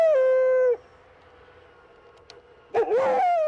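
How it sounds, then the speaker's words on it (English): A Mexican gray wolf, or lobo, lets out a long, clear howl that slides downward and breaks off, then after a quiet pause starts a second rising howl, close and loud with no other sounds. "This is the Mexican gray wolf, also known as lobo."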